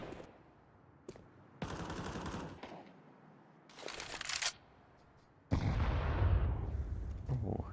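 In a competitive shooter match, bursts of rapid gunfire and a heavy blast-like burst ring out, separated by quieter gaps, ending in a long loud explosive rumble with faint commentary beneath.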